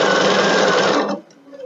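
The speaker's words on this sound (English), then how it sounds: "the needle only moves when we are moving the fabric" A Bernina sewing machine with its stitch regulator runs steadily for just over a second, a loud close whirring stitch, then cuts off abruptly and leaves only faint room noise.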